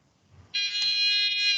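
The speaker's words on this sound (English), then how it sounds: "when I put the light on the receiver, you hear beep, beep, beep" Optical receiver beeping as an LED light shines on it in an optics teaching demonstration: a single sustained high electronic tone starts abruptly and holds steady, loud and clear with no talk.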